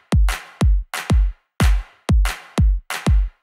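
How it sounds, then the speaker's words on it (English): Electronic drum loop playing a polyrhythm of three evenly spaced claps over four kick drums; deep thumping kicks interleave with bright, crisp clap hits in a steady repeating pattern, with nothing else audible. "if we want to play 3 claps within that same time period and want them evenly spaced"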